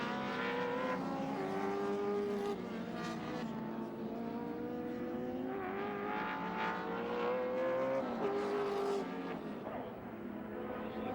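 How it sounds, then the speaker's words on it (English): A Ford Sierra touring race car at the 1987 Calder 500 endurance race, its engine droning loudly and continuously on the track, the pitch rising and falling through gear changes, with a crowd-like background roar. "The Oxo Supercube Sierra out and running."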